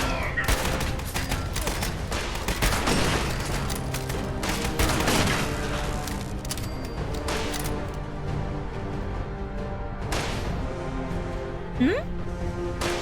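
Sustained gunfire in Fallout 76, dense overlapping shots and bursts rattling through a facility interior with an alarm-like hum beneath, loud and continuous before thinning out near the end.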